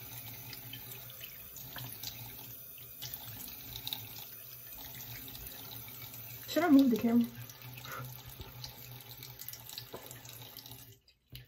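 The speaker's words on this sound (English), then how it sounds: "first I gotta wash my face. I use warm water." Warm tap water running from a faucet into a sink for face washing, a soft steady stream with a louder splash midway, while a person talks over it.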